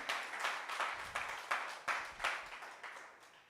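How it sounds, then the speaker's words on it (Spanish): A church congregation applauds during a Spanish-language sermon, the claps coming in steady, fairly even bursts roughly three times a second, moderately loud and filling the room with no voice over them. "dense un aplauso al Señor por eso"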